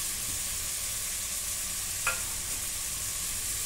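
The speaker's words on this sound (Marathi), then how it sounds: "आपण सगळं मिक्स करून घेऊ." Peanuts, potato, carrot, cauliflower and green peas stirred together in a pan for masala rice, a steady frying sizzle with one brief spoon scrape, close and continuous.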